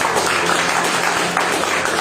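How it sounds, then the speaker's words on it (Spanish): Congregation clapping steadily during a Spanish-language Sunday church service, a dense, even wash of hand claps filling the room without pause. "Dale un aplauso al Señor."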